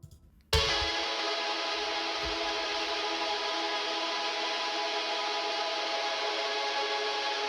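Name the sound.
guitar with very fast picking, heavy delay, reverb and distortion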